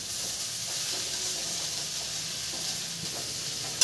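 Sliced okra sautés in a pan on low heat, a steady close sizzle and hiss running throughout, with a small clatter at the very end.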